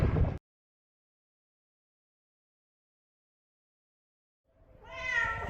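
An old cat lets out a short meow near the start, then after a long silence a longer, drawn-out meow close by, with no talk over it.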